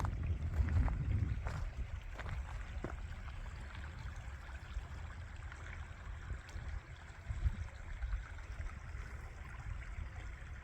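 A desert wash in the Sonoran Desert runs over rocks after monsoon rain, a continuous rushing, babbling flow heard from a short distance, with gusts of wind buffeting the microphone.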